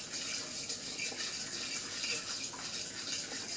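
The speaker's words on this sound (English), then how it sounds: "use a fork to whiz it all round." A fork whisks boiling water from the kettle around inside a Pyrex glass dish, a continuous close swishing and sloshing with light scraping, with no voices.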